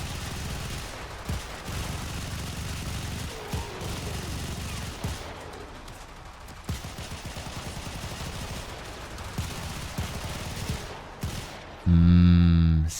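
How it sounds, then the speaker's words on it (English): Remodeled Peacemakers pistols wielded by Mesa in the Warframe video game fire a string of sharp shots over a low hum, ending in a loud droning burst. "they also gave them a new sound"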